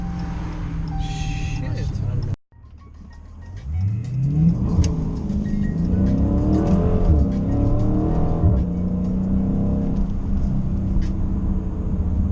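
A 2016 Dodge Challenger Scat Pack engine revs hard while driving, heard from inside the car, rising and falling through repeated loud sweeps after a brief cut, with a voice talking over it.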